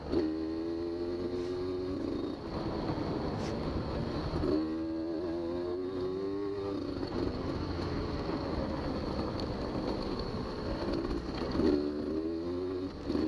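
A Beta 200 RR two-stroke dirt bike engine drones steadily while riding a flat trail at Durhamtown, its pitch rising and falling in repeated surges as the throttle opens and closes, loud and close throughout with no talk.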